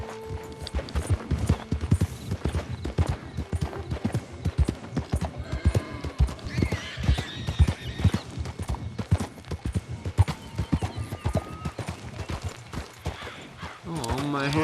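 Horse hooves clip-clop at a steady brisk gait in Red Dead Redemption 2, a continuous rhythmic patter over outdoor game ambience, with someone talking over it.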